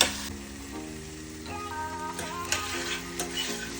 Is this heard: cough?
no